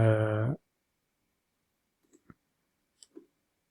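After a brief burst of speech, a computer mouse clicks through a presentation slide with a few quiet, close clicks in two pairs separated by silence.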